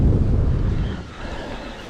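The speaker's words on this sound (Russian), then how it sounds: "Ветер усилился." Strong wind buffets the microphone beside the Moksha River in Mordovia during October fishing, a heavy low rumbling gust that eases slightly midway and then picks up again.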